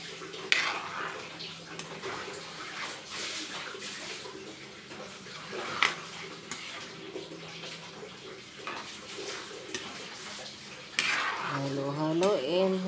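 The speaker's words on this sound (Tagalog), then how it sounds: "atin pong haluin, mga palangga, yan. Para matikman na natin ang lasa ng ginatang bilo-bilo." Ginataang bilo-bilo is stirred in a pot, giving a soft, sloshing swirl of thick coconut-milk liquid with occasional spoon knocks against the pot and a brief clink near the end.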